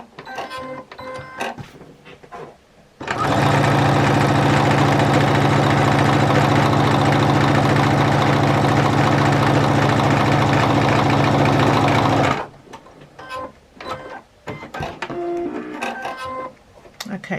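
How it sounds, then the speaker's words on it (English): A sewing machine top stitches along the upper edge of a quilted jelly roll tote bag, running loud and steady for about nine seconds in a continuous mechanical whir, with quieter handling and movement sounds before and after. "you can go ahead and top stitch the top there, and it just helps finish it off and makes it nice and neat."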